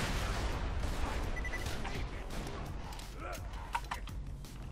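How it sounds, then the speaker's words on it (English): Grenades going off in the shooter game Borderlands 2: a rapid cluster of sharp bursts and crackling impacts over noisy gunfire, with players talking over the din. "It's a whole lot of grenades that just went down."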